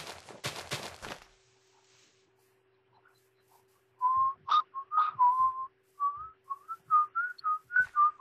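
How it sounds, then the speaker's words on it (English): A person whistles a wavering, tuneless melody in short bursts, close and clear over near silence, during a Minecraft pony survival game session, after a brief rustle of noise at the start. "Oh my God, stop whistling!"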